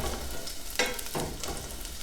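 Onion sauteing in a little oil as the base for risotto, a steady close frying hiss with brief stirring scrapes and no voices.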